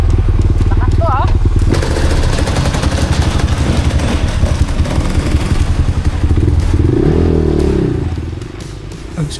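A motorcycle with strong vibration climbs the steep Digos Hills trail, its engine loud and rough under heavy clattering and scraping of the bike over uneven ground, easing slightly near the end.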